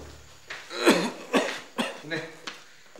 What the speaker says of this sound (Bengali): কি কাশি দাদা